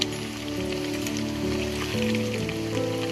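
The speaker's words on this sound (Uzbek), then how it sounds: "Yog'lari ham jizzadek bo'lib qovurilyapti." Meat frying in rendered fat for qovurdoq in a pot, a continuous dense crackling sizzle like rain, with a low steady hum underneath.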